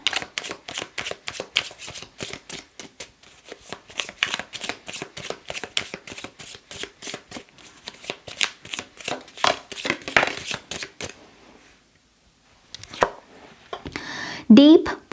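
Tarot cards are shuffled in a fast, crisp run of close riffles and slaps, then a brief pause and a few louder final shuffles.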